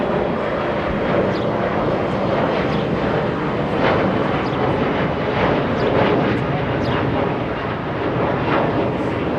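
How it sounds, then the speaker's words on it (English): A SkyWest Embraer E175 jet airliner bound for Las Vegas produces a steady, fairly loud engine roar at an airport, continuous and even with slight swells, with no voices. "Sky West headed to Vegas, and Embraer E175"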